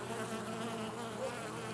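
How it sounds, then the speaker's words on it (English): Honeybees buzz in a steady, low drone around an opened hive after smoking, a faint, even hum with no voices over it. "After giving them the smoke, the bees seem to be behaving much better."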